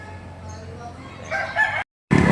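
Rooster crowing at an outdoor chicken market in Padre Garcia, Batangas on a morning, a loud rising crow over market bustle, cut off briefly before another burst.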